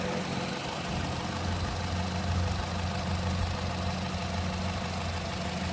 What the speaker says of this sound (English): This little 4-cylinder runs nice and smooth.